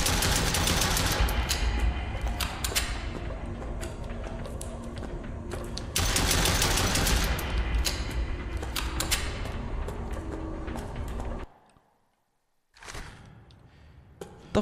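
Loud gunfire from a realistic horror video game, dense rapid shots and thuds in long bursts that stop abruptly near the end before quieter thumps return, with no talk.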